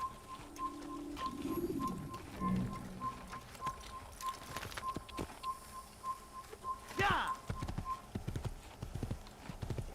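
Steady horse hoof clops in an even rhythm across the whole stretch in the video game Assassin's Creed, with bird coos and whistles and a voice briefly talking over it.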